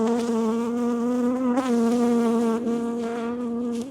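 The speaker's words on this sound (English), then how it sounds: "You're going to get a few anxy bees because I am now going in" Honeybees hum in a steady, dense drone during a hive inspection. The buzz is loud and close, with slight shifts in pitch as the bees move around, and no voices are heard.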